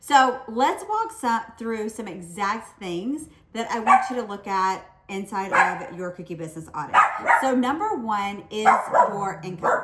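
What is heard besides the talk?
dog barking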